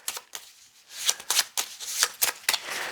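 A deck of cards being shuffled for a board game session, with repeated riffling bursts and soft pauses between them, close and fairly loud, with no talking.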